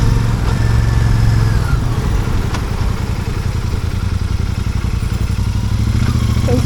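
A Royal Enfield Super Meteor 650 rides along a mountain route, its engine a steady low throbbing rumble mixed with wind roar, loud and continuous throughout.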